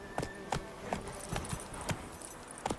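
Hoofbeats of Roach, Geralt's horse in The Witcher 3: a steady, moderately quiet clip-clop of hooves in an even trotting rhythm, about eight strikes over a faint ambient bed.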